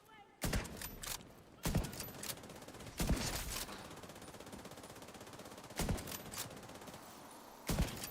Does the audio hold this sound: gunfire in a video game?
yes